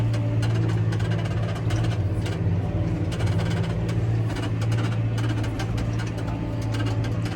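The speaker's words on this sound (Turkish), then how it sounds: "Gıcırtıdan dolayı kusura bakmayın. Ayna yapıyor." A tractor pulls a plough across a field, its engine droning in a steady low hum close by, while a squeaking mirror adds rapid repeated rattling ticks over the top throughout.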